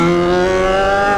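A Yamaha XJ6 motorcycle engine roars at high revs close by, a loud, steady, harmonically rich drone held for about a second with no talk over it.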